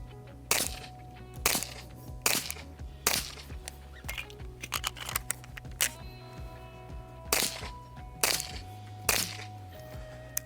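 Outdoors, a Dan Wesson 1911 pistol firing .45 rounds cracks out a string of sharp shots at uneven intervals, some closely paired, loud and near, over a steady low hum.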